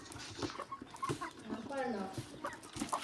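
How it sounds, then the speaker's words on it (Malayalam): Backyard chickens, a flock of about forty, cluck and murmur close by in short irregular bursts, with a few louder calls rising over steady farmyard background noise. "നമ്മുടെ അപ്പൻ്റെ കോഴിക്കളാണിത്. അടിപൊളി കോഴിക്കൾ."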